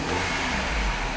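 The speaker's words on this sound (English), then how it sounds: "Keep an eye on the tachometer. I'm gonna rev the engine." A 2010 Mini Cooper Clubman's 1.6-liter four-cylinder engine revs up close by, a steady loud mechanical roar swelling slightly near the end with no voices.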